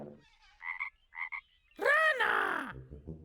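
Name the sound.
frog croaking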